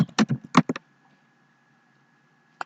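Password being typed on a laptop keyboard: a quick cluster of about eight crisp, close key clicks in the first second, then silence, then one final isolated keystroke.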